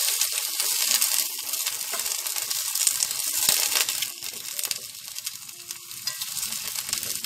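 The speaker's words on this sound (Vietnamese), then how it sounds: "Tiếp theo là mình sẽ cho một chén nước lạnh vào đây nha các bạn." A bowl of cold water goes into a hot pan of sizzling vegetables, including green beans, for a vegetarian braise: loud, close, continuous hissing and crackling that surges, dips briefly, then carries on.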